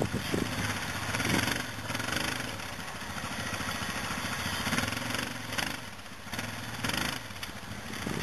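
ATV quad engine in an off-road setting revving steadily and fairly loud, with a continuous buzzing drone that rises and dips slightly over several seconds.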